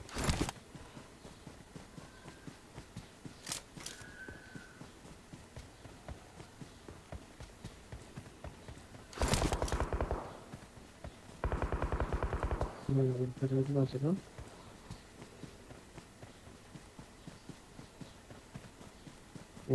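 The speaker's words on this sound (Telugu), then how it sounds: "ఇగో నేను గుర్రం వేసుకొని వస్తున్నాను, రెడీ ఉండు" Bursts of galloping hoofbeats in short rushes in a squad battle video game, ending with a horse's whinny, against a quiet background with a few sharp clicks and bangs.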